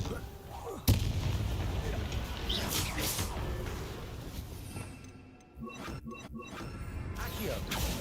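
A spell burst cast in a wizarding video game, with a sharp crack near the start followed by dense blasting, rumbling combat effects and short bright zaps, loud and continuous throughout.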